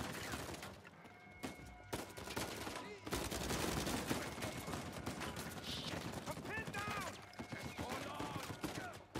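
Uncharted 4 gunfight: sustained bursts of rapid gunfire and impacts fill the stretch, fairly quiet overall, mixed with game effects and occasional speech.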